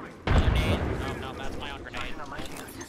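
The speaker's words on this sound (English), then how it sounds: "that's my own grenade" A grenade blast in the battle royale shooter Apex Legends, one sudden loud boom near the start that rumbles and then tails off beneath ongoing game noise.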